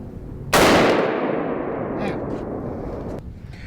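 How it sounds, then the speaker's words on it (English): One loud, close AR-15 rifle shot with a sharp blast and a long decaying echo of about three seconds. "Now I actually have another round in there, so I'm going to shoot it."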